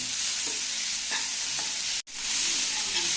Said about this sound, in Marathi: आता फक्त मी 2 मिनिटे अशी ढवळते